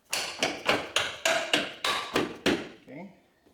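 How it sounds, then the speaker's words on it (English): A hammer gives about nine sharp, evenly spaced taps to seat bolts while a 2.5-inch leveling kit goes on a 2025 Ford F-150. The strikes are loud and close, then fade into a quiet tail. "Give it a little tap with a hammer."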